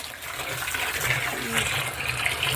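Water runs from a garden water source into a container, a steady close gushing and filling sound with faint background noise.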